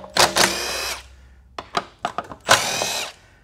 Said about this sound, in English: So, we do have our Milwaukee 3/8 impact here.